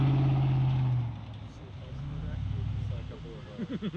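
Sweep car 95 drives through stage 12 of the 2020 Ojibwe Forests Rally, its engine drone strong at first and then fading as it passes, with a spectator's voice talking over the vehicle.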